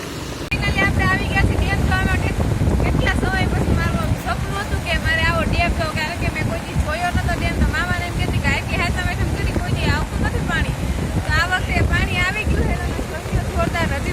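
Loud, steady rush of the flooded Uben river's turbulent water fills the scene, with someone talking over it throughout and some wind buffeting the microphone.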